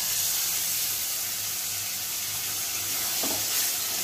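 Frying spices and boiled Bombay duck fish hiss steadily in a pan, a constant close sizzle broken by one brief stirring scrape near the end, with no speech.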